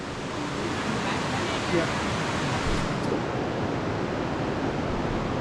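A waterfall roars inside Rio Frio Cave in Belize, a dense, steady rush of falling water filling the space at close range, with a brief spoken word barely rising above it.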